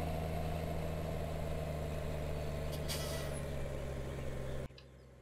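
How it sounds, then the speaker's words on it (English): Tractor engines idle in Farming Simulator 17, a steady loud low droning hum that runs evenly before cutting off abruptly near the end, leaving quieter background. "I mean, these are my tractors, you know."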